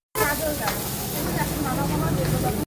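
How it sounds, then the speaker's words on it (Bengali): Ginger and garlic fry for fried rice at a food stall, giving a loud, dense, continuous sizzling hiss that begins abruptly and stays close throughout. "এখন ফ্রাই করা হবে আদা রসুনটা এই ভাজা ভাজা হয়ে যাবে"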